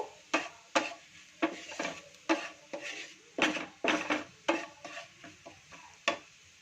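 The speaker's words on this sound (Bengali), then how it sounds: "রসুনের সাথে এটাকে মেল্ট করে নেব, ভালো করে নাড়িয়ে নেব" Garlic, butter and a little flour stirred in a pan produce rhythmic scraping clacks of a utensil against the metal about once a second, over a light sizzle, with no talking.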